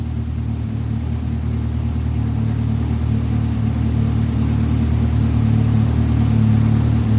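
A car engine idles steadily and loudly, a constant low rumble with a faint whir on top and no talking.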